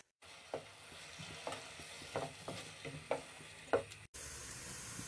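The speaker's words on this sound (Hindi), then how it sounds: "प्याज को हम अच्छा सा गोल्डन कर लेंगे।" Finely chopped onions fry until golden in a pan for a beef paya dish, a steady sizzle broken by several louder stirring scrapes spaced about a second apart, close by, with no talk.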